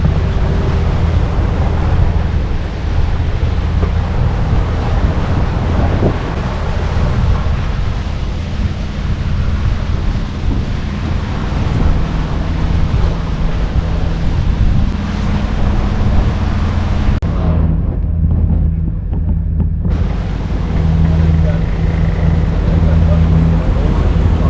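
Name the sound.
sailboat riding on the ocean off Long Beach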